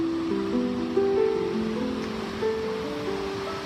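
Soft ocean surf washes steadily at Whale Cove on Cape Breton Island while plucked harp notes ring out clearly over the continuous wash of the waves.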